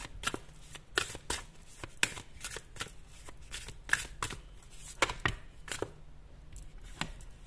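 Tarot cards are shuffled by hand in repeated bursts, crisp riffling slaps and flicks sounding close and fairly quiet in an irregular rhythm, with no one speaking.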